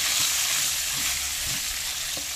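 Brinjals frying in hot oil for a stuffed vankaya fry give a steady, dense sizzle up close, broken by a few soft clunks of the pan, with no talking.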